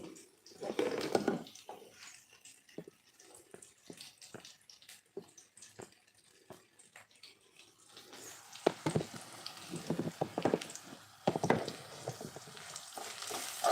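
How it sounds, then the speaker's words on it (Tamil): Leftover rice being made into tamarind rice, with ingredients sautéed in a pan: sizzling frying with scraping stir strokes and clinks, intermittent at first, then busier and louder. "இது நல்லா வதக்கிக்கலாம்"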